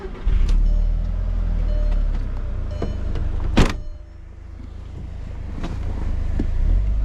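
A 2002 Audi TT ALMS Edition runs with its engine on, heard as a steady low hum from inside the cabin. A few light clicks and one sharp, loud burst come partway through.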